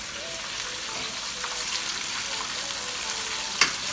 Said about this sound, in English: I would say it's been frying on one side for about 5 minutes.